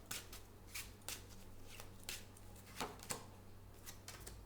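Tarot cards flipped face up on a surface, a series of soft, crisp card snaps and slaps spaced irregularly about every half second over a low steady hum, faint and close, without speech.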